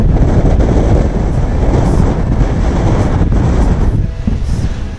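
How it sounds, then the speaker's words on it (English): Strong east-to-west wind buffeting the microphone on the exposed Whernside summit in the Yorkshire Dales, a loud continuous roar with gusty swells that eases slightly near the end, no voices. "today the wind is definitely coming east to west"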